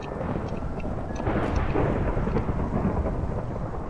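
Heavy rain roars in a dense, continuous wash in Minecraft, with a low rumble of thunder swelling slightly partway through.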